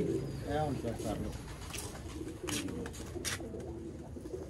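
Shy pigeons kept by a fancier, soft rolling coos repeated near the start, with someone talking over them and faint background noise.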